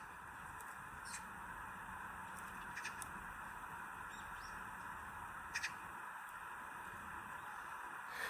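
Birds chirp softly and intermittently over a steady, faint ambient hum at a resort in Dalat, Vietnam, during breakfast, with a few brief sharper calls standing out.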